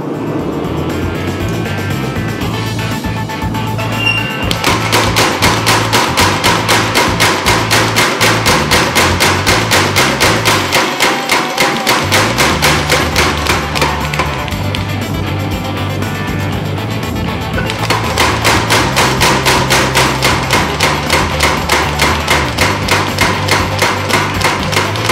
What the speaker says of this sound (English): I'm just planishing, straightening it a bit